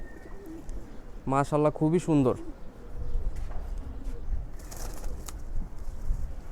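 A male one-band pigeon gives low cooing beneath a man's short spoken remark, then soft rustling and faint coos continue near the microphone.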